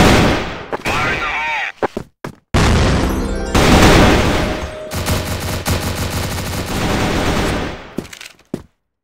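Close, loud bursts of automatic gunfire and a grenade blast from the shooter game Crossfire, dense and rapid with brief gaps, under excited voices speaking over the fighting.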